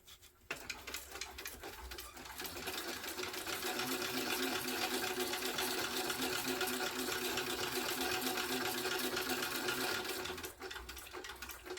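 A sewing machine with stitch length set to 5 stitches backpack material in one long continuous run, a close, fast, even whir that starts abruptly, holds steady for several seconds and slows near the end.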